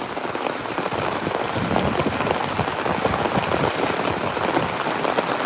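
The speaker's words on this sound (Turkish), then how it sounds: "Yağmurdan dolayı sesim çok fazla gelmiyor" Heavy rain pours steadily on Mersin's Fındıkpınarı plateau, a dense, loud, continuous hiss of drops hitting the ground and surfaces with no voices, holding at an even level throughout.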